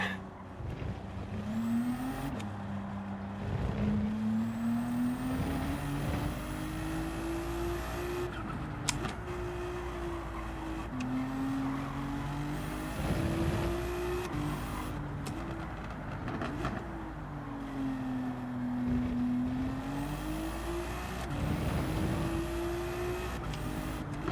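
A Ferrari race car engine in Gran Turismo 7 drones steadily, its pitch rising and falling through gear changes and corners over a long continuous run, with no talking.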